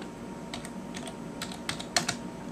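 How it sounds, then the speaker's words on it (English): Commands typed on a computer keyboard while setting up a Raspberry Pi, a soft, close clatter of keystrokes in uneven bursts that grows slightly louder toward the end. "My terminal is open here, so I'm going to type in some commands."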